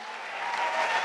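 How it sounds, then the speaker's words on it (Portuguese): An audience at a Catholic charity event at Cacique de Ramos applauds a priest. The steady clapping rises slightly in loudness over about a second, with no talking. "Vamos aplaudir o Padre Alex aqui, hein?"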